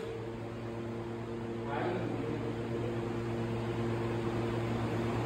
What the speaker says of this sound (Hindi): तो गाइस चल गया है कूलर।